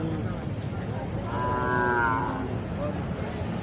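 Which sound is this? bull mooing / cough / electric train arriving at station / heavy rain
bull mooing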